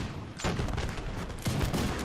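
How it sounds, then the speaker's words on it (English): Artillery and musket volleys boom and crackle in Napoleon: Total War, a dense, continuous rumble of distant firing with heavier thuds at intervals. "So we have the artillery firing in the background."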